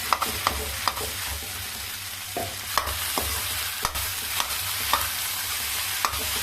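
Mashed potatoes with spices stirred and fried in a pan, a steady sizzle broken by regular sharp scrapes of the spoon against the pan, close and alone with no voices.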